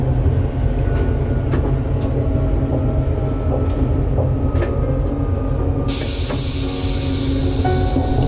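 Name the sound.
train approaching Figeac station on the Aurillac–Toulouse line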